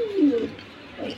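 Pigeons cooing close by, two short throaty coos separated by a brief pause.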